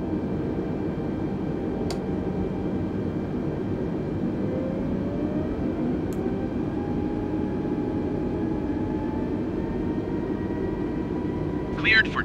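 A Lufthansa airliner's engines hold a steady loud roar during takeoff in Flight Simulator 2020 at Budapest, a continuous drone with a slowly rising tone, while radio voices talk over it.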